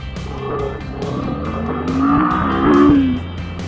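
A 2013 Kawasaki Ninja 650 inline-twin motorcycle underway, its engine droning loudly then rising in pitch as it revs up, with wind rush around it.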